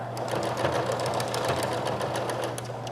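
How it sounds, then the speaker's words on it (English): Sewing machine stitching sweatshirt fabric with a narrow zigzag, a fast steady mechanical whir with rapid needle clatter, loud and close throughout with no talk. "So I'm going to sew those together, good sides together."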